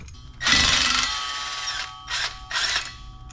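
A power tool whirs and ratchets on a 1968 Dodge Charger R/T 440, one long close burst followed by two shorter bursts, fairly loud with no talking.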